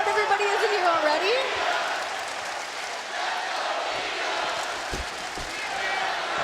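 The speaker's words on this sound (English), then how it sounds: "You guys hear how loud everybody is in here already?" A sold-out arena crowd at Nassau Coliseum during the WWE Evolution 2018 wrestling event roars loudly and continuously, with a commentator talking over the noise.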